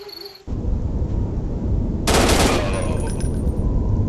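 Rapid gunfire from the video game Counter Terrorist Shoot, a sustained loud burst of shots that intensifies midway and continues to the end, with a faint voice underneath.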